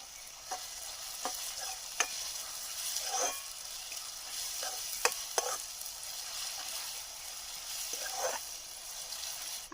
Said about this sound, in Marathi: कांदा टोमॅटो आहे तो जरा मेल्ट होऊ दे.